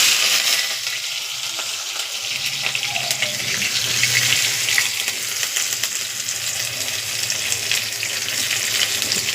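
Onions dropped into hot oil and frying in a pan alongside curry leaves and green chillies: a steady, dense hiss and sizzle that holds evenly throughout without pause.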